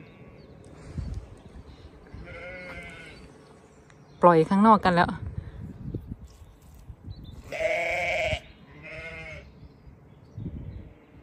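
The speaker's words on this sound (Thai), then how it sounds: "แกะที่อยู่ข้างนอก" Sheep bleat outside on a farm at the end of lambing season, several loud quavering calls near and far, mixed with someone talking and low farmyard background noise.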